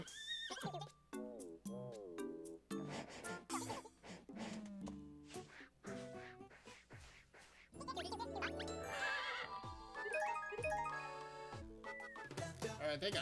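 Repeated video-game horse neighs and whinnies from Miitopia, sharp melodic calls stacked over game music, loud and close, with occasional talking mixed in.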